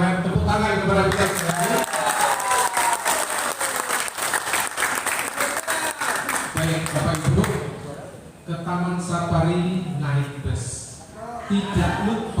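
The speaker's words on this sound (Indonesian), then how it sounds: "Kita beri tepuk tangan kepada kita sekali." A village audience claps for a candidate's speech at a Lebo village head election forum. The applause is dense and sustained for several seconds, with a voice talking over and around it.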